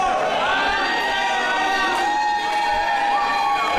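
A hometown crowd at a professional wrestling event cheers and shouts steadily throughout, a dense, loud wash of voices with no individual words standing out.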